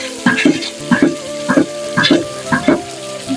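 Spice masala with puree from four tomatoes fries in a pan for a ridge gourd (turai) sabzi, giving a steady close sizzle with repeated rhythmic bursts of stirring roughly every half second.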